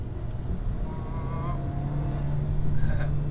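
A car driving in second gear on Westlake SA07 all-season tires makes a steady engine drone and road rumble from inside the cabin, building slightly toward the end.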